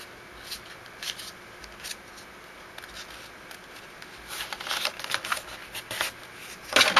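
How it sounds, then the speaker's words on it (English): A square sheet of paper being folded in half point to point, giving soft crinkling and rustling that swells into louder crisp crackles toward the end, close by with no talk. "take this and fold your 2 points together. So that's going to fold it right in the middle."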